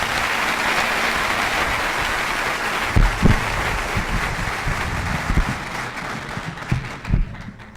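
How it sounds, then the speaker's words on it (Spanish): Conference audience applauding a speaker, a dense steady wash of many hands clapping with a few closer, sharper claps and thumps, tapering off near the end. "Yo pediría un fuerte aplauso para Carlos David"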